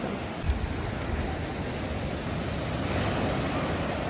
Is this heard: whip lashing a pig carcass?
no